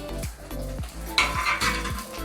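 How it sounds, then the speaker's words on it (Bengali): Eggplant charring in a pan, a steady sizzle under repeated scraping and stirring strokes of a utensil, with a brighter burst of frying hiss partway through. "এখানে এই যে বেগুন পোড়াচ্ছি"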